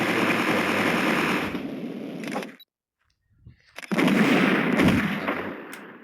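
Gunfire from the Mini Militia mobile shooter game, dense rapid bursts and explosive blasts heard up close and loud, broken by a short near-silent gap before the firing resumes, no talking.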